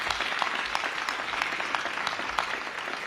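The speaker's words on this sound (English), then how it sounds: "Please give them a round of applause." An audience applauds the designers and general contractor of a modernized elementary school at a ribbon-cutting ceremony, steady crackling clapping for three seconds, moderately distant and even.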